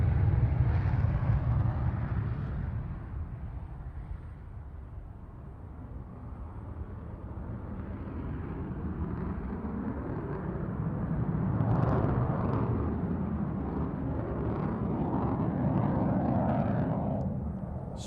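A Saab Gripen fighter jet flying a display at the Farnborough Airshow: a fairly faint, far-off jet roar that dips, then swells again as the aircraft moves across, with a broad rumbling hiss and no talk.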